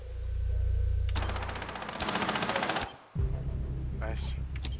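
Rapid gunfire in the Rainbow Six Siege video game during a bomb defuse round on the Coastline map, a loud burst of automatic shots followed by a brief gap and further clatter, with game sounds around it.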